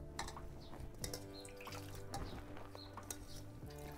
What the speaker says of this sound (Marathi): मी असं पाण्यानं चांगली धुवून घ्यायची 2-3 पाण्यानं